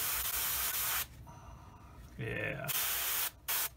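Spray paint hissing onto a Tamiya 1/35 M3A1 Scout Car scale model, with two loud, close bursts, the first about a second long and the second very brief, separated by a quiet stretch where a person briefly speaks.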